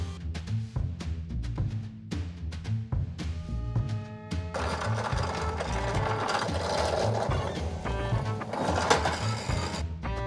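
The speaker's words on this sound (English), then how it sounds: "rounding the corners and also just drilling few holes to attach it with the screws" A drill bores a few screw holes in wooden strip pieces for a modular flight sim cockpit, a steady whirring motor tone that rises in intensity midway and runs continuously and close up.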